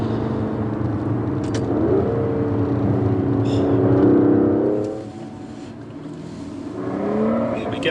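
An Aston Martin DB11 engine pulls hard and rises in pitch, fades briefly, then builds again. The sound is close and steady inside a moving car, with other cars' engines in the background of a convoy.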